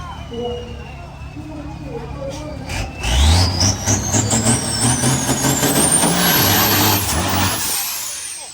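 Ten-wheeler trucks race at the Ratchaburi track, engines roaring and climbing in pitch as they accelerate past, under loud excited commentary.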